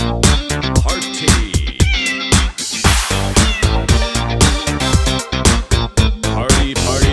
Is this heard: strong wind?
no